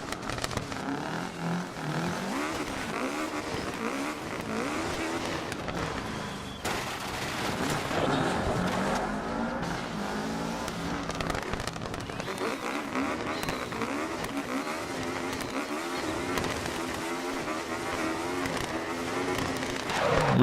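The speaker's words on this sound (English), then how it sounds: "I think I've got to put my foot down on the accelerator to do it" A battered rally car in Dirt Rally revs and accelerates throughout, its engine droning and rising in pitch with gear changes, with a few sharp bangs mixed in.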